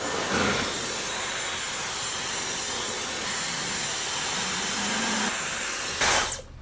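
A hair dryer blows steadily on damp hair set with perm rods, a loud continuous whooshing hiss that holds for several seconds before cutting off near the end.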